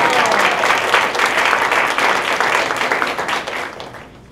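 A startup pitch-competition audience claps as the next speaker is called to the stage, dense sustained applause that fades away at the end.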